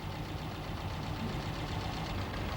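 A 1987 Citroën AX Sport with a 95 hp engine idles steadily while its four mixture screws are adjusted, giving a low, even mechanical hum at moderate distance with no talking over it.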